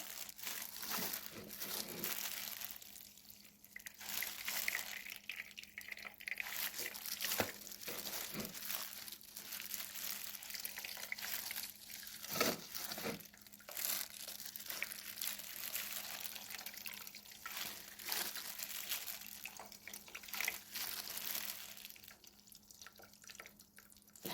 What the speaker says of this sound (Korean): 이제 물기를 꼭 짜요.